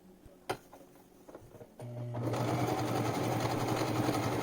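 A sewing machine stitching the front curve of a fabric face mask starts after a few handling clicks and knocks, then runs as a steady close whirring, mechanical buzz until the end.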